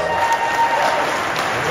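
Audience applause at a tech company press conference, a brief burst of dense clapping from a large crowd with a faint steady tone running under it.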